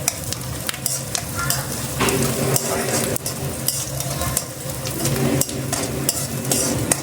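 Onions sautéing in a pan for fish curry, a steady loud sizzle and fry with repeated scraping stirs of a spoon against the pan, close up and continuous, no talking.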